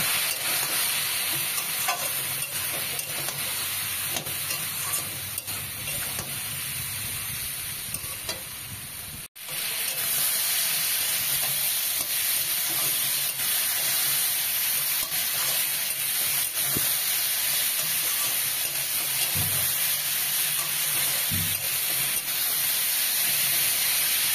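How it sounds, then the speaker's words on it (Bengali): Taro stolons and potatoes sauté in a pan with a little water, giving a constant close hissing sizzle with occasional stirring scrapes and a brief break near the middle. "বেশ লতি আলু বেশ ভাজা ভাজা হয়ে গেছে, ভালো করে কষানো হয়ে গেছে।"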